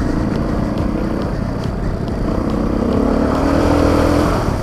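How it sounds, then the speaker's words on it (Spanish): A Rieju motorcycle slogs through mud on an off-road ride, its engine droning steadily up close and then climbing in pitch as the throttle opens, with no talking. "Se va la moto para todos los lados con el barro"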